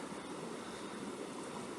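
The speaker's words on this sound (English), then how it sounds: "it's just so nice to be camping next to a running body of water" Running stream water beside a campsite on the Continental Divide Trail in New Mexico, a steady, even broadband rush with no pauses, faint and alone.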